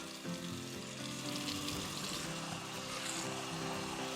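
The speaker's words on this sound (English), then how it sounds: "running some cool water" Continuous rush of cool tap water pouring into a bowl of rice, steady and close, with a faint low hum underneath.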